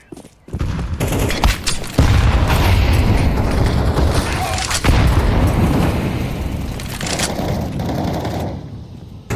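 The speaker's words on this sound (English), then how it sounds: "I'm throwing a grenade." Grenade blast in Counter-Strike 2 within a loud, sustained burst of gunfire and booming explosions lasting several seconds, with players talking over the chaos.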